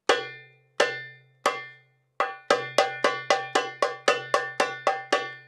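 Crisp tek strokes on a darbuka, struck with the ring finger near the drum's edge: three spaced hits, then a brisk run of about a dozen sharp, ringing slaps, close and alone.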